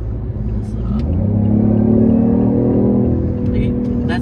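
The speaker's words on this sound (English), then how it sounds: "Driving the I8 right now, like, this thing is crazy." A BMW i8 sports car accelerates from the inside, with a low engine rumble rising steadily in pitch and loudness and then easing slightly, while someone in the car talks.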